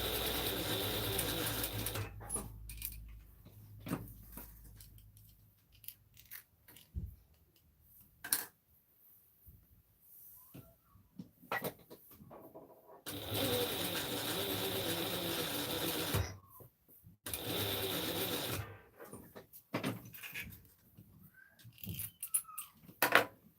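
A sewing machine stitches a McCall's 7974 garment in several long, steady runs of rapid mechanical whirring, broken by quiet pauses and occasional clicks and handling sounds, close and fairly loud.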